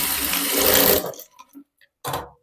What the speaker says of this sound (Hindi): यहाँ पे मैं डबल सिलाई लगाऊंगी शोल्डर के पास